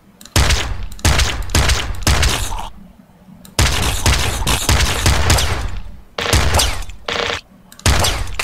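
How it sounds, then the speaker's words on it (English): Machine gun fire in the video game Nuclear Throne rips out in loud, dense bursts of rapid shots, several volleys separated by brief gaps of near silence. "Machine gun. Machine gun."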